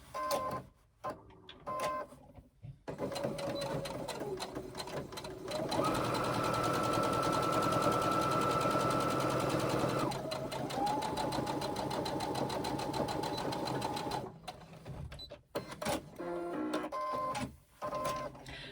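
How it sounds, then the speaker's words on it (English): A sewing machine runs a steady stitching burst for several seconds, sewing a 3/8 inch seam along fabric, with quieter handling clicks before and after. "match the long ends and sew a 3/8 of an inch seam"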